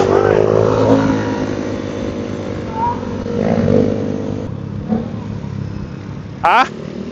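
A motorcycle engine revving on a ride near Tanay, Rizal, a steady engine drone with throttle swells, then a brief sharp burst near the end.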